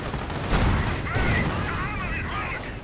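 Rifle, machine-gun and artillery fire crackle and boom through a dense World War II strategy game battle between infantry, tank destroyers and StuGs. The sustained battle noise sits under a commentator's talk.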